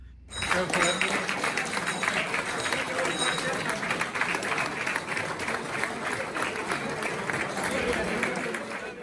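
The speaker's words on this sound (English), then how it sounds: "They were warmly applauded as they entered the hall at the finish" Warm applause from a crowd in an indoor hall greeting long-distance walkers finishing the Trans-Pennine 100, steady, sustained clapping that swells in quickly and carries on with crowd murmur.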